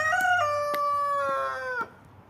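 A Plymouth Rock Silver Cross rooster lets out a single loud, close crow lasting nearly two seconds, alone without any talk.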